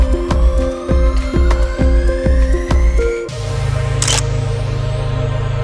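A camera fires its shutter several times in an even rhythm while a speedlight with a shoot-through umbrella lights a portrait setup. The clicks are loud and close, followed by a steady hum.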